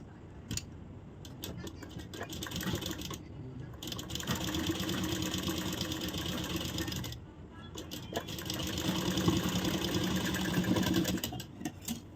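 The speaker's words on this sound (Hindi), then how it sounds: "अब हम यहाँ से सिलाई लगाएंगे।" A sewing machine whirs in steady, fast bursts as it stitches a blouse, stopping briefly twice before running on again, close and mechanical.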